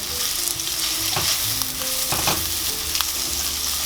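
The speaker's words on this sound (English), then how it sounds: "we're just gonna saute it a little bit" Chopped onion sizzles in melted butter in a pan on the stove, a steady close crackle and hiss with occasional stirring scrapes and no voices.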